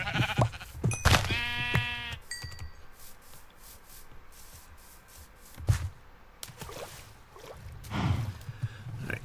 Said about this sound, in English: More sheep. Doesn't hurt to have more.